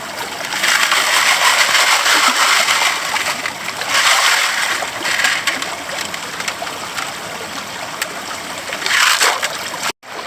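Gravel being sieved in a rainforest creek in northeast Tasmania while searching for gemstones such as spinel: continuous sloshing and splashing in repeated swells, close and fairly loud, ending in a sharp knock.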